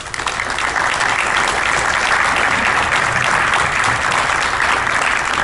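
Loud, dense applause from a seminar audience on family businesses in Monterrey, many hands clapping in a continuous roar that holds steady for several seconds without talk.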